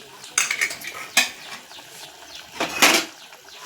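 Fried peanut bhajiya dropped into a pan of buttermilk curry and stirred, giving a few sharp scraping clinks of a spoon against the pan over a faint sizzle, with no one talking.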